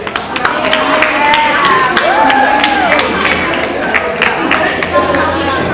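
Audience at an end-of-year banquet clapping and cheering, a dense, continuous burst of applause with crowd noise and occasional shouts across the whole stretch.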